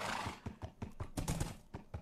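A horse in Minecraft whinnies in a rapid stuttering series of pulsed neighs, moderately loud and close, with no talk over it.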